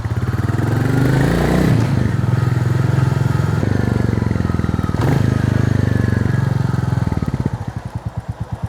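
A Royal Enfield Goan Classic 350 single-cylinder motorcycle accelerating, its loud close exhaust note rising through the revs and then easing back to a lumpy, pulsing thump.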